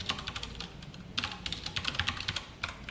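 Close, steady clatter of keys on a computer keyboard as code is typed, quick bursts of keystrokes separated by short pauses, with no talking.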